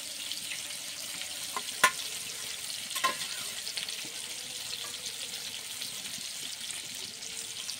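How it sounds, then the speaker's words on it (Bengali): Potatoes fry on a stove in a pan, a steady soft sizzle with a couple of small clicks and pops, fairly quiet and alone. "উনুনে আলুটা ভাজা হচ্ছে"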